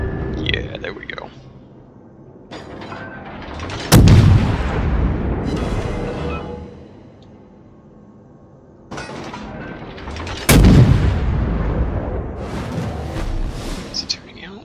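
Warship guns firing in World of Warships aboard the Yubari, two heavy booming salvos several seconds apart, each followed by a long rumbling tail, with a voice talking over it.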